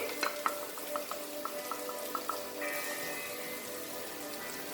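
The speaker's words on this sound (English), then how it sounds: "Now I will fry my coconut." Grated coconut frying in a pan for a Goan chicken xacuti, a steady close sizzle with a scattering of sharp crackles and pops, louder spitting in the opening seconds.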